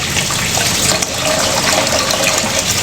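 Okra being washed under a running kitchen tap, with a steady close rush and splash of water that runs unbroken throughout at a fairly loud level.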